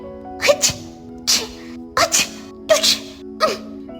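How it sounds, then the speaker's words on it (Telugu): Cartoon characters in an animated bird-village story sneeze over and over, five or six sharp bursts in quick succession against a soft tonal backing, each sneeze loud and close. "ఊరంతా తుమ్ముల మోత మోగుతోంది"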